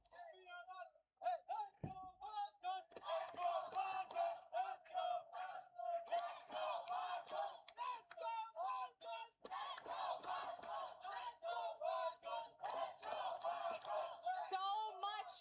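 Esports crowd at the Lenovo Legion Gauntlet event chanting and cheering in rhythmic bursts, loud and sustained with a repeated shouted chant pattern.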